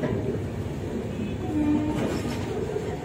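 Jharkhand Sampark Kranti Express with ICF coaches arriving at Ranchi Junction, a loud continuous low rumble of rolling rail cars with a brief tonal squeal partway through, close by.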